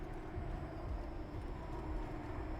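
Steady low rumble of a train rolling along in the video game Kiborg, a continuous mechanical drone with no talk over it.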